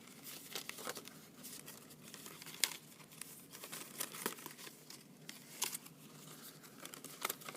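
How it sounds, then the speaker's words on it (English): Stiff paper being creased and folded back and forth to prepare a pop-up, giving repeated crinkling and crumpling sounds with soft taps, fairly close and moderately quiet, with no one talking. "I'm going to fold on all of these folds."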